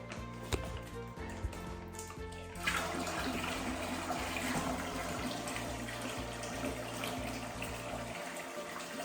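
Cold water runs steadily into a bag of winemaking fruit, a sustained rushing stream that fills and gurgles without pause.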